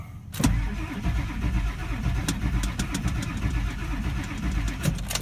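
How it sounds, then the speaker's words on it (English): A car engine cranks on a weak battery after a sharp click, the starter turning over in a sluggish, steady rhythmic chug that continues for several seconds without catching, close and fairly loud. "So let's just try to crank it."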